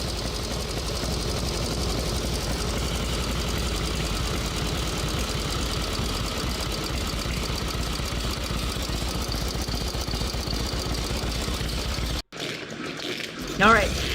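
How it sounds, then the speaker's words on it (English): A rare vintage motorcycle engine with a manual oiler idles close by in a steady, even mechanical chatter, running unbroken until a brief dropout near the end. "I didn't talk during it so that way you could hear this incredible engine"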